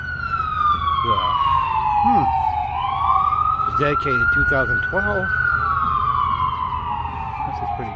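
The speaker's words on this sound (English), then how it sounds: "there's a ambulance in the background" An ambulance siren wails loud and steady throughout, its pitch sweeping down and back up as it passes in the background of an outdoor memorial area in Des Moines, while a person talks over it.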